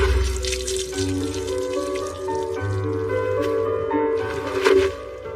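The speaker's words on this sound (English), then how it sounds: "If water ball isn't enough, then it's up to water jet to finish things" An anime water jet spell effect: a thin, high-velocity stream of water rushes and gurgles continuously with a ringing tonal hum, swelling briefly near the end before easing off.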